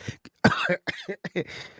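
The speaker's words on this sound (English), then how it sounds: "Now I'm coughing." Coughing from a call-in show host, a quick series of short, harsh bursts with brief pauses, close to the microphone and loud against the silence between them.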